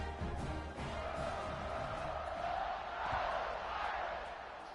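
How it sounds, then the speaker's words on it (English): A stadium crowd at a college football game between Oregon and Notre Dame keeps up a steady, far-off roar that swells slightly midway, with no voices standing out. "this crowd is buzzing after that last score"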